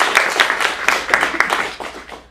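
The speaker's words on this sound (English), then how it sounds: "let's give Tori a big round of applause" An audience at an adult acting studio showcase in Phoenix gives a performer a short burst of clapping that thins out and fades within a couple of seconds.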